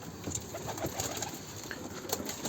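Soft cooing from pigeons in a coop murmurs continuously over a busy, hissy background, with a few faint chirps mixed in.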